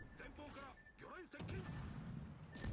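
Naval gunfire in World of Warships: Legends, with a ship's guns booming through a steady roar of battle noise beneath an ongoing voice talking.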